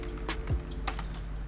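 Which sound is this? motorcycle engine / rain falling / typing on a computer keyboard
typing on a computer keyboard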